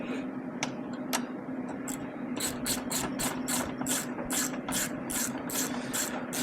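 A ratchet snugs the door bolts on a Polaris Ranger XP 1000 Northstar, with faint ticking that quickens into a steady run of crisp clicks over a constant low hum.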